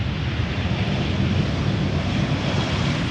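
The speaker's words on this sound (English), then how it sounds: "this ITA arriving from Milan has taken 1 hour and 27 minutes to get here" An ITA Airways jet arriving at Amsterdam Schiphol from Milan produces a steady low, distant engine rumble with a broad rushing wash and no distinct peaks.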